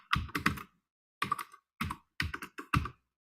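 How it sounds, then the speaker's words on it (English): Keys clatter on a computer keyboard in short, quiet bursts of rapid clicks separated by brief pauses, close by and alone. "I hear clicking in computer, and it's hard."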